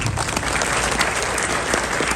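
A crowd at a community institution event in Canada bursts into thick, sustained applause for Khabib Nurmagomedov, loud and continuous for the whole stretch, with a few scattered voices.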